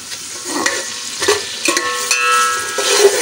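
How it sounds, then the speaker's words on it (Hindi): Onion frying with ginger-garlic paste in a hot pan sizzles steadily up close while a spoon stirs and scrapes against the metal in repeated strokes, with no talking. "अब जो है ये प्याज को हम थोड़ा भूनेंगे और अदरक लहसुन का कच्चापन भी दूर होगा"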